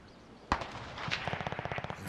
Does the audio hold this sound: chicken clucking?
no